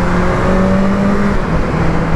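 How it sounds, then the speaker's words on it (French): A 2021 BMW S1000R motorcycle on its stock exhaust revs steadily with a loud, continuous engine drone and whine that holds throughout, close by and with no voices. "Le bruit du silencieux d'origine met pas assez en valeur la mécanique."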